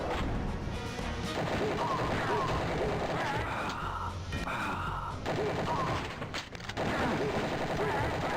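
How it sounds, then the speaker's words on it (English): Rapid enemy gunfire in Wolfenstein 3D on the 3DO, crackling bursts of quick shots and hard impacts packed tightly together, loud and continuous with a brief thinning near the middle, played alone without talk. "God, they shoot so fast."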